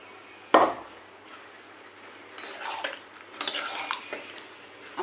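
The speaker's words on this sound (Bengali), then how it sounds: "তো আমি লাউটা চুলার পর দিয়ে দিচ্ছি, ঘন্ট করব সেই জন্য।" A pot holding bottle gourd (lau) is set down on a stove with a sharp metallic clank, followed by softer scraping and clattering of cookware and a faint sizzle at close range.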